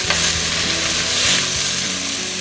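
Scallions stir-frying with venison in a hot pan on high heat, a steady loud sizzle and hiss running throughout, with light clatter of stirring underneath and no talking.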